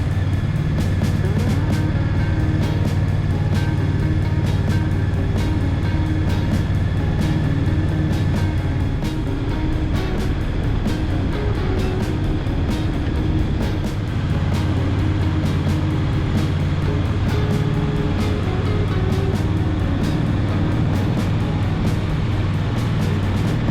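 A 2023 Honda Rebel 1100T bagger motorcycle with an automatic DCT transmission rides along, its loud, continuous engine drone mixed with heavy wind rush, the engine pitch shifting a few times as it goes.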